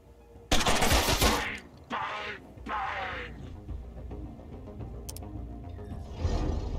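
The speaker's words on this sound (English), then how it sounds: "Start shooting your friend in the back." Gunfire in the video game Mutant Year Zero, a loud close burst of shots followed by a few shorter volleys and fading mechanical clatter, with quiet talk between.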